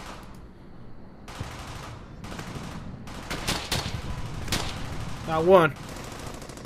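Machine gun fire and scattered gunshots from a World War II squad battle in the video game Brothers in Arms: Hell's Highway, sounding as irregular bursts of varying loudness over a busy combat backdrop.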